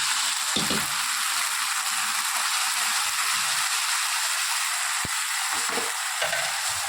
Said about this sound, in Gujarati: હવે આપણે જે દાળ છે તે નાખી દઈએ.